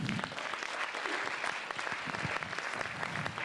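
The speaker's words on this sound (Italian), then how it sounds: "Con un applauso per Federica De Marchi." An audience at a music festival applauds a pianist, a steady, moderately quiet patter of many hands clapping without pause.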